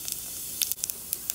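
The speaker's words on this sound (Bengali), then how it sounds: "তো জিরে ফোড়ন দিয়ে দিচ্ছি" Cumin seeds are dropped into hot mustard oil, giving a close, continuous sizzle with small sharp crackles and pops for a brief moment.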